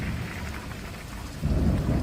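A thunderstorm with heavy rain and hail, a dense continuous downpour with a deep thunder rumble swelling louder near the end, no voices.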